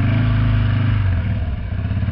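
A Harley-Davidson motorcycle drifting on snow, its loud V-twin engine revving hard and close with a deep throbbing rumble that dips slightly as the bike slides sideways.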